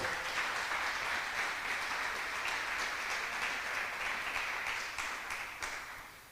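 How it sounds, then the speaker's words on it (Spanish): A church congregation applauds the newly baptized with steady, dense clapping that holds for about six seconds and then begins to fade. No one speaks over it. "Un aplauso por los que se bautizaron,"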